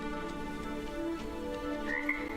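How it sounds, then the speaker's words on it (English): A loud frog croaks in RiME, a calm exploration video game, its repeated calls standing out over soft ambient music with no talking. "That frog is really damn loud compared to virtually all the other sounds in this game"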